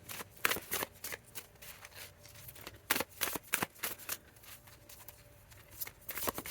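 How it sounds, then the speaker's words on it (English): A deck of reading cards is shuffled alone, giving repeated crisp riffles and flutters in irregular bursts, close and fairly quiet, with soft handling noises between them. "I'm going to be quiet and do a little shuffling."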